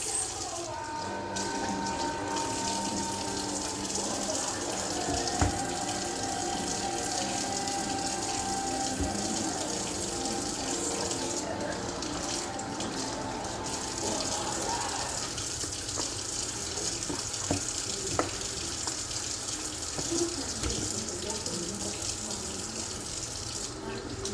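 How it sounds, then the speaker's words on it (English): Kitchen tap water runs steadily into a sink while pork chops are rinsed, a continuous close splashing stream with faint handling noises and no talking. "So we're gonna wash our chops."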